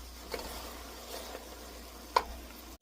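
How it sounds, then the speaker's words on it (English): Apples soften in a pan for a sourdough apple maple pie, giving a faint, low sizzle and simmer with a few soft stirring taps, quiet and steady with no talking. "We're going to let this cook for about 10 minutes or until the apples get softened up."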